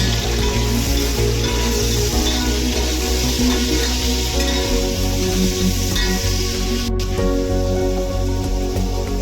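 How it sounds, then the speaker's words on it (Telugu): Chicken pieces for biryani fry in a pan with a steady, dense sizzle that runs loud and unbroken throughout, with no talk over it. "ఇలా వేపుకోవాలి, కొంచెం గోల్డెన్ బ్రౌన్ వచ్చేలాగా వేసుకొని మూత పెట్టి వేపితే త్వరగా వేగుతాయి."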